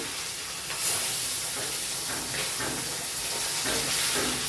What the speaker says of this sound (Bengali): এক এক করে সব মাছগুলো ভেজে নিচ্ছি।